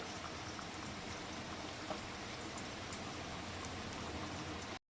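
Beaten eggs frying in oil in a wok, a steady dense crackling hiss with scattered small pops, continuous and fairly close throughout.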